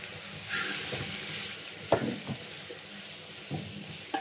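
Chicken wings fry with translucent onion in a pot, giving a steady soft sizzle with stirring scrapes and a few sharper clinks of the utensil against the pot.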